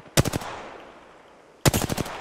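Two short bursts of rapid automatic gunfire in the video game Apex Legends, each a quick rattle of about four shots, separated by a quiet gap over faint background hum.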